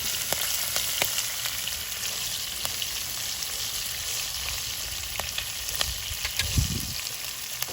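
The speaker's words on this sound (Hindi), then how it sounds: "इनको अच्छी तरीके से फ्राई करके हम निकाल लेंगे एक पैन में से।" Green chillies frying in a pan, a dense crackling sizzle held steady throughout, with scattered sharp pops and a brief stirring thump near the end.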